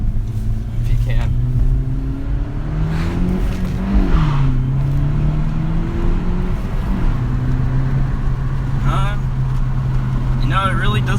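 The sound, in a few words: 2017 Honda Civic Si coupe engine revving in sport mode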